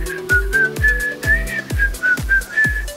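A man whistles a short, rhythmic tune, with thin breathy notes in quick bursts about every half second and a heavy low thump under each one.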